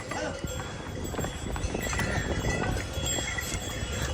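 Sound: horses' hooves clip-clopping on mountain path

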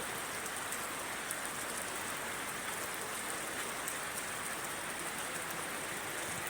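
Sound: monsoon rain in Kerala

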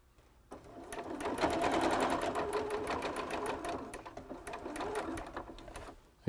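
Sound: sewing machine stitching fabric

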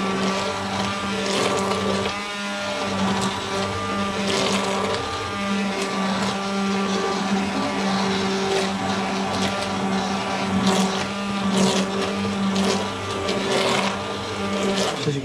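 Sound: blender pureeing palak paneer spinach

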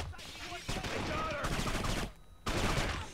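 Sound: gunshots from the video game Kane & Lynch 2

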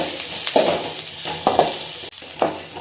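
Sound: onions frying in a pan

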